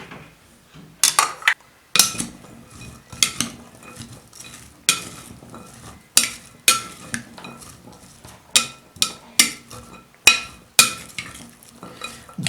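Onion and small tomatoes being mixed in a pan with a utensil: repeated sharp clanks and scrapes against the metal in an irregular rhythm, close and fairly loud, over a faint sizzle.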